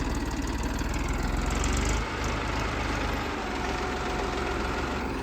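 A tractor's diesel engine idles steadily and close by at a night-time grain market where farmers have brought paddy. The loud, even, low rumble runs without a break, with no one talking over it.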